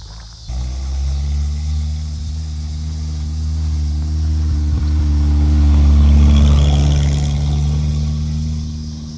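A 1979 Honda Prelude engine idles and revs in a steady, loud, close-up drone, rising in pitch and intensity midway before easing slightly, with no talk over it.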